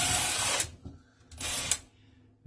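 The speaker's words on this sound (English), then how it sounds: "now I'm going to go ahead and drill out with a 1/4-inch bit" An electric drill with a 1/4-inch bit widens a pre-drilled hole for mounting a towel bar, two bursts of high whirring drilling separated by a short pause, close and fairly loud.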